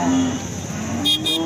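A pure HF cow at the Alephata cattle market gives a loud, close moo at the start, with busy market noise around it.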